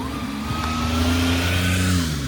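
A car drives along a street in a retro, half-abandoned hot spring town in the mountains of Akita, its engine hum close and steady as it passes over two seconds.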